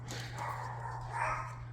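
Yorkshire terriers barking inside a house, muffled and fairly faint, a few sustained yappy bursts over a steady low hum, no voices.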